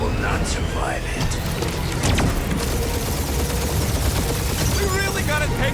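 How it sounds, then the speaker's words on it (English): A sustained weapon barrage in the Guardians of the Galaxy video game rumbles continuously, with dense blasts and booms layered under occasional speech. "Keep up the barrage."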